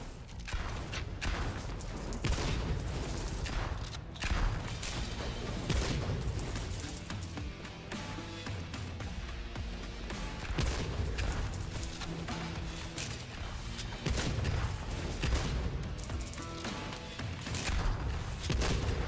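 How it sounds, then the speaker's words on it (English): Ghost gunslingers firing fireballs in the Weird West roguelite shooter Soulslinger: Envoy of Death, a dense, continuous barrage of shots and impacts layered over a driving game soundtrack, loud and steady throughout. "Oh, they're ghost gunslingers! Oh, and they're shooting fireballs at me."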